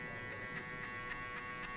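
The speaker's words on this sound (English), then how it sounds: "See, you flick the clipper always out." Faint, continuous electric hair clipper buzz during a buzz cut, with a steady hum and soft regular pulses as the clipper is flicked out, no talking.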